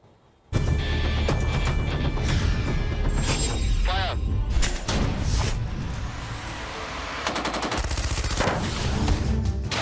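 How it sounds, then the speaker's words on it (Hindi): Bursts of gunfire crack and rattle in irregular volleys in a forest in Kashmir, loud and echoing, with shifting mechanical noise between shots. "जंगल में रुक रुक कर गोलीबारी"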